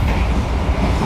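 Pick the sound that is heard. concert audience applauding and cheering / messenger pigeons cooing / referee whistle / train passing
train passing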